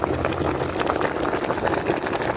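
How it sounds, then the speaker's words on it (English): Water boils steadily in a pot, a dense continuous bubbling and hissing that stays close and evenly loud throughout, with no voices. "I'm going to boil this now."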